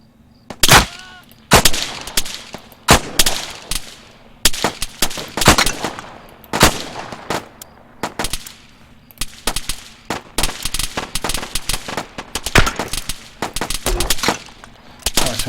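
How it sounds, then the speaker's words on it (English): Arma 3 gunfire rattles in irregular bursts and single cracks, loud and close, with rapid automatic volleys layered over distant shots across the battlefield. "I want to fire at them, make them feel a bit under pressure. So I'm just firing very near to them."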